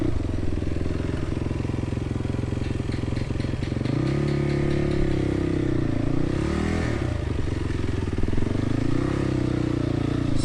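A dirt motorcycle coasts down a steep bank into a riverbed, its engine idling and rising and falling close by, with clattering and scraping from the terrain.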